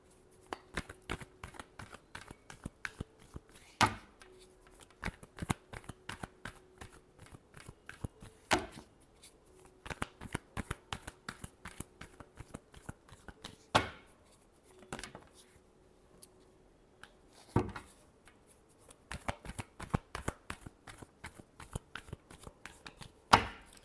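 Tarot cards being shuffled by hand in repeated bursts of crisp riffling and flapping, close and fairly quiet, each burst broken by short pauses, with no voices.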